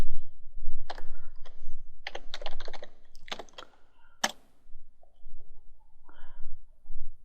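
Keys clatter on a computer keyboard as a summary command is typed into statistics software, bursts of close, crisp clicks coming in uneven clusters with brief pauses, then a few softer taps near the end.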